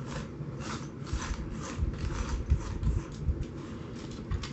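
Screws being removed from a SABRE M20 unit during maintenance, heard as steady mechanical ticking and ratcheting of a screwdriver with small metallic clicks, close and moderately loud throughout, with no speech.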